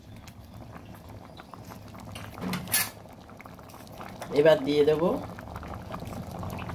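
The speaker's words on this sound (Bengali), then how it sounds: "আমি এবার কিছুক্ষণের জন্য ফুটতে দিচ্ছি" Chana dal bubbling in a pot, a low continuous simmer with a couple of louder utensil clinks and splashes, while someone talks briefly over it.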